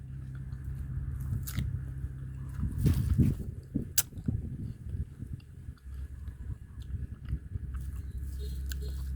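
Someone bites into and chews a sweet, ripe guava, with close crunchy bites and wet mastication repeating unevenly over several seconds, loudest in the middle, without speech.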